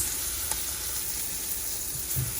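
Ginger and onion sauté in melted margarine in a pan with a steady, soft sizzle throughout, close and even, with a faint clink near the start and no talk.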